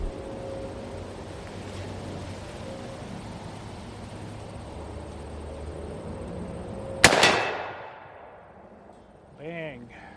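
Rifle gunfire striking a steel gong at an outdoor shooting range: one sharp, loud report with a brief ringing decay follows a steady hiss of background noise. A faint, wavering chirp comes near the end.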